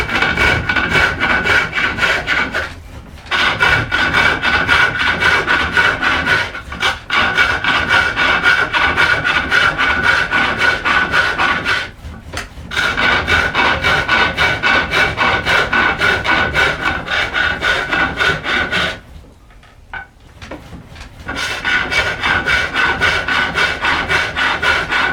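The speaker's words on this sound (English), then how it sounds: "just sort of beveled that off with that really small gouge" A small gouge bevels a collar on a spinning wooden stool stile on a lathe, a loud continuous scraping hiss broken by a few short pauses as the tool lifts away.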